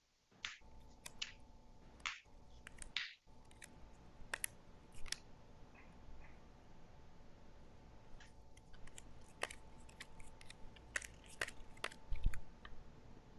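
Playing cards dealt by hand into four piles, a string of crisp snapping flicks as each card lands, irregular and close, with a quiet pause between bursts.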